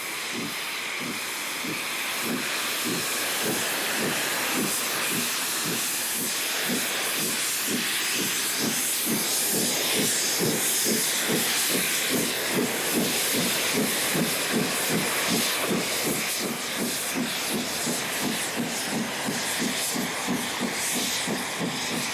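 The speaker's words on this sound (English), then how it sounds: "After a short stop, the loco heads for Liverpool." Stanier Pacific steam locomotive Duchess of Sutherland departs southward toward Liverpool, a loud steady hiss of steam layered over a fast, regular chuffing beat that continues throughout.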